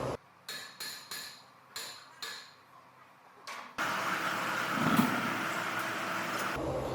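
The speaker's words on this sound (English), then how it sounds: "But I'm just going to hammer it off because we're replacing them." A series of sharp metal hammer strikes knocks a brake rotor off a 2016 Ford F150 at an uneven pace, six or so blows, followed by a louder sustained clattering, scraping rattle.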